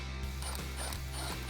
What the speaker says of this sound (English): grab your 8mm socket and tighten down that clamp